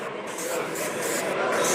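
An airbrush sprays paint from a few centimetres away onto a model during a scale modelling demo, giving a steady close hiss that pulses slightly in strength.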